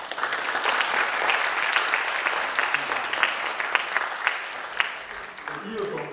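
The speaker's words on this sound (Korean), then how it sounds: "박수." Applause rings out at Chongshin University's 120th anniversary ceremony as a seminary scholarship is presented, steady dense clapping from a large audience sustained for several seconds before tapering off.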